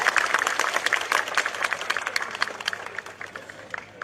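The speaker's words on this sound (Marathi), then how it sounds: "जोरदार टाळ्या वाजवून स्वतःचं अभिनंदन करा" A rally crowd out in the rain claims loud, dense applause, a thick wash of many hands clapping that gradually thins and fades toward the end.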